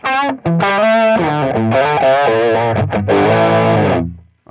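An electric guitar played dry with the delay pedal switched off: loud, distorted notes and chords ring out one after another, each stopping cleanly with no repeats, and no voices.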